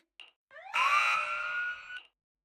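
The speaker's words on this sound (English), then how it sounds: "The alarm went off!" An alarm goes off in the video game Zenless Zone Zero: a short electronic blip, then a rising tone that swells into a sustained, loud alarm wail before stopping abruptly.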